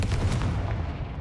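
A Confringo fire spell cast in Hogwarts Legacy goes off as a loud, booming burst, with dense rumbling energy that holds steady for about a second before thinning out.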